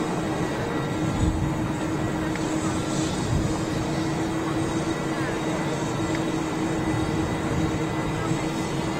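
A KLM Boeing 737 taxis toward a gate at Schiphol, heard as a steady, distant jet rumble and hum that holds evenly throughout over broad airport background noise, with no voices.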